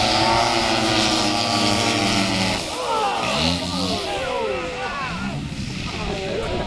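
A large radio-controlled B-29 model bomber at an RC airshow flies low on approach with gear down, its propeller engines droning steadily under a public-address voice.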